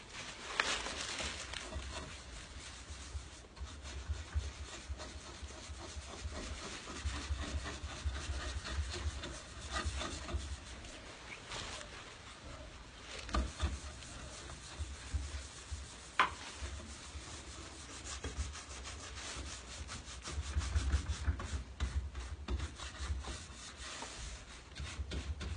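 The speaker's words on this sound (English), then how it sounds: "take my waxing brush, rub it in here, and go to town" Waxing brush rubbing wax into a wooden four-drawer dresser, a faint continuous scrubbing and brushing texture with repeated strokes, close by and without talk.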